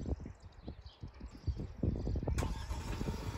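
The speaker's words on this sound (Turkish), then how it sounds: "Şu anahtarın en altındaki tuşa yaklaşık 7 saniye basılı tuttuğumuzda araba çalışıyor." A Chery Omoda 5 starting by remote key: quiet low rumbles and clicks build into a steady idle hum, heard from nearby outdoors with a brief bright burst midway.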